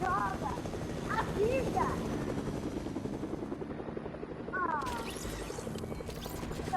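Helicopter flying in Fortnite, a steady droning rotor chop running continuously under excited chatter from several players, with occasional in-game clanks and effects.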